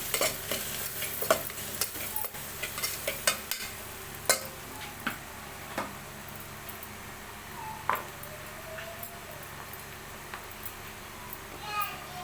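Coriander powder and spices stirred in a frying pan for a dried fish, tomato and onion curry, with scraping strokes and ticks of the spoon over a low, steady sizzle.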